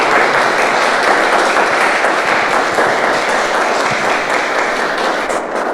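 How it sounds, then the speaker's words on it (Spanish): An audience at a law conference in San Felipe claps warmly to welcome a speaker, a dense, steady burst of applause that carries on for several seconds before easing slightly at the end. "Recibámosla con un caluroso aplauso"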